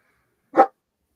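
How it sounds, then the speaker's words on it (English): Winston the dog lets out a single short bark, loud and close, set against silence. "He doesn't normally bark unless something's going on."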